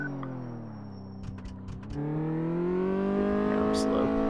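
A car engine in Car Mechanic Simulator 2014 hums at a steady pitch during a test drive, then rises and revs up more strongly partway through, with a few brief clicks near the start and a faint voice talking over it.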